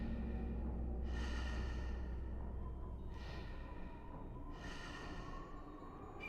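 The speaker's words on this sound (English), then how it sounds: "while heavy breathing can be heard behind you" Heavy breathing in a horror video game scene, three slow breathy swells rising over a steady low rumble and ambient drone, faint and close, with no talking.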